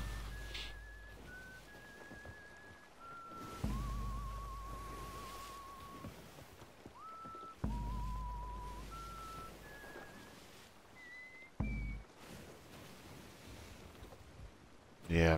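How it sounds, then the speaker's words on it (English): A Sea of Thieves pirate character whistling a melodic tune in a few separate phrases, with low drum-like thumps beneath and game ambience around it; no speech over it. "He whistles and he drums."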